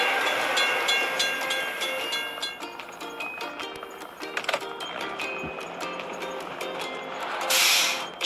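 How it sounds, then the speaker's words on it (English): A train rolls past a closed crossing gate in the game Teardown with steady rumbling and rhythmic rail clatter, metallic squeals and bell-like tones, ending with a brief bright hiss. "We have to wait for the train to pass."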